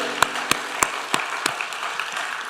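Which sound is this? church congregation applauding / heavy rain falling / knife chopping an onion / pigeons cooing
church congregation applauding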